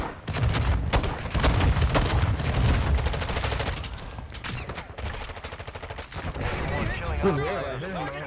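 Dense gunfire from Call of Duty DMZ fills the space: sharp repeated shots and rapid bursts, some close and loud, one heavy boom, with a voice breaking in over the fighting.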